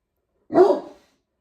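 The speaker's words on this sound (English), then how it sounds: "I'm kind of relieved to hear him lively and barking" A single deep, loud Great Dane bark close by, short and full-bodied, with a brief trailing tail and silence around it.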